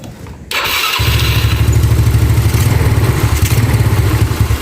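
A Yamaha Nuvo scooter engine with a replaced vacuum part cranks and catches after a short quiet pause, then settles into a steady, close, fairly loud idle with a continuous low putter to the end.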